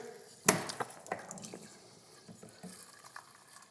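Boiling water is poured from a kettle into a pan for cooking rice in a kitchen, with a sharp knock, then a soft, close splashing trickle that tapers off quietly, no speech.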